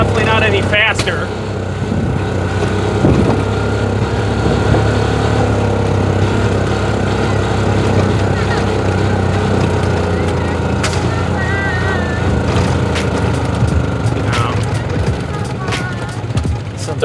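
A small engine with a lean-running carburetor runs loud and close, holding a steady drone with a few sharp pops that could be backfires.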